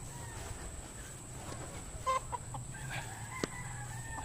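Chickens and roosters on a farm in the Philippines cluck in short, scattered bursts, with a sharper call or two standing out against a faint, steady background hum.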